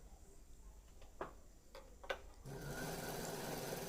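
A sewing machine stitches mekhela fabric, with a few sharp ticks followed by a loud, steady mechanical whir that runs on its own near the end.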